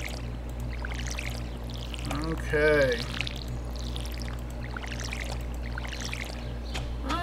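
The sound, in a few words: watering crops in video game Stardew Valley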